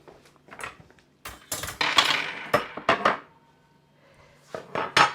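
A saucepan of thick cooked chocolate mixture comes off the stove with a run of sharp metallic clanks and knocks, separated by quiet pauses.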